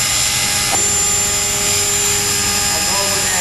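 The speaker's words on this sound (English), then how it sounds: "Just don't get too close to the helicopter, just in case." Autonomous indoor UAV helicopter built on a TREX 450 airframe, flying under computer control, gives a steady loud rotor whine with a sustained high tone throughout.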